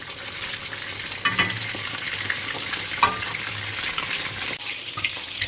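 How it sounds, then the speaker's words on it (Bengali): Pakoras sizzle and crackle steadily in hot oil, with occasional louder pops and the scrape of stirring, close and continuous, no talking. "আর এখানে 1 প্লেট বসিয়ে দিচ্ছি ভাজতে, ভাজা হচ্ছে।"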